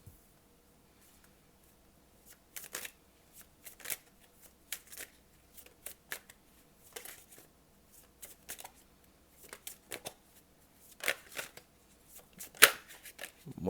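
Tarot cards shuffled by hand, quick bursts of riffling and card slaps repeating at irregular intervals over about fourteen seconds, close and fairly quiet with no talking.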